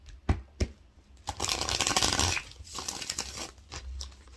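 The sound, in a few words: shuffling tarot cards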